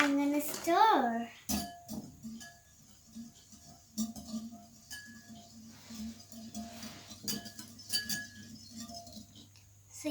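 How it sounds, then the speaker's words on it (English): A spoon stirs in a bowl with light, irregular clinks and taps close by, after a voice is heard briefly at the start. "And now I'm going to stir."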